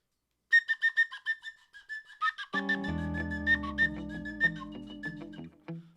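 A whistling duck call is blown close by as a rapid run of short, shrill whistled peeps, then longer wavering whistles over a low droning tone that fades out near the end.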